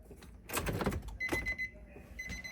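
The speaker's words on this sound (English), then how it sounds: "Just hearing that little chime makes me super happy." A short electronic car chime on power-up rings out twice, a steady tone held briefly, amid soft rustling and handling noises nearby.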